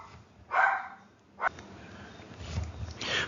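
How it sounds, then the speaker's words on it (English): A dog in the background of an indoor room gives a few separate, moderately loud barks with quiet gaps between them. "my dog's bark in the background"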